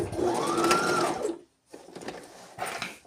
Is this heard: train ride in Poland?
no